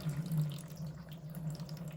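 Water flows steadily and continuously out of a caravan's water tank overflow, a close, even gush with a low rushing tone and no pauses.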